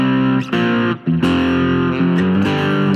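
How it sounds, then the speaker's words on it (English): Electric guitar played through a Fuzz Face pedal set as overdrive, loud sustained distorted chords changing every half second or so, with brief gaps between strums. "it sounds like a really good overdrive pedal now."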